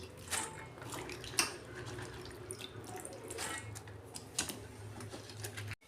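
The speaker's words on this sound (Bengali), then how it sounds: "সব সবজিগুলো তো কাটা ছিল আমি ভালো করে দু তিনবার করে ভালো করে ধুয়ে নিচ্ছি" Chopped vegetables being rinsed in water at a kitchen sink, with running water, splashing and small clattering handling noises at moderate volume and no voices.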